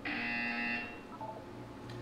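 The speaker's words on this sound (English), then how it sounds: "When you hear the buzzer, look up at the ceiling." A buzzer in the video game Portal 2 gives a loud, steady electronic drone for under a second, then a quiet room tone follows.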